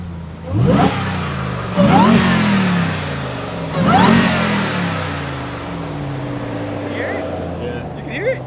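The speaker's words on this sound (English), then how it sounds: "Here's the Hellcat engine." A RAM TRX pickup's supercharged Hellcat V8 revving three times in sharp bursts between idle, loud and close, with people talking over it.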